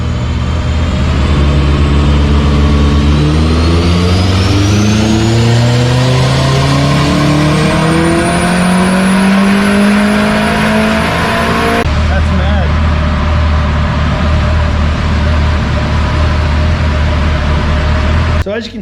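A turbocharged Honda K24 engine revs hard on a dyno, a loud continuous roar climbing steadily in pitch before the throttle snaps shut and it drops to a lower drone.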